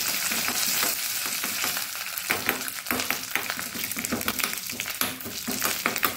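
Mustard seeds fry in hot oil for a Mangalorean chutney of salted jackfruit core, giving a loud, dense, continuous sizzle with crackling pops close up and no talking.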